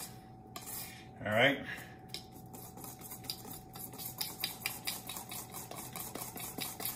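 Sugar being blended by hand into egg whites in a bowl, quick clinking and scraping strokes of a utensil against the bowl, busy and close, with a brief spoken word early on.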